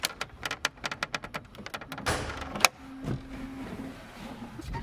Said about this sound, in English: And let's just open the hood.